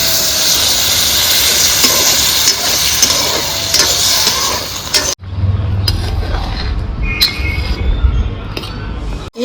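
Water splashed into a hot pan of oil-fried prawns for a potato-prawn curry, a loud broad sizzling hiss for about five seconds that cuts off abruptly, followed by quieter bubbling with light clinks of utensils.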